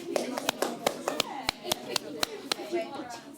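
Sharp hand claps ring out one after another, about a dozen crisp close claps in an uneven rhythm, with voices talking softly underneath.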